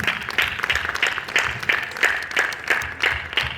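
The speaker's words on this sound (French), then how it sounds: "Acclamez." Church congregation clapping in rhythm, a steady pulse of roughly two to three claps per second, moderately loud and continuing without pause.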